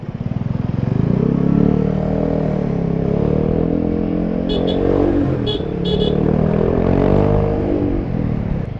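Motorcycle engine drones steadily up close while riding through congested road traffic in Manila, with a low continuous rumble and faint vehicle noise around; no talk.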